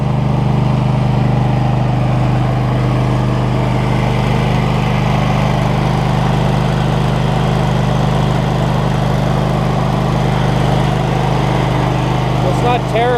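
A Husqvarna Z248F zero-turn lawn mower engine runs steadily just after a choke start, giving a loud, close, continuous drone with an even, unchanging tone.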